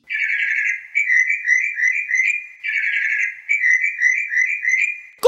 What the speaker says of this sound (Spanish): Se trata de mi amigo, el pájaro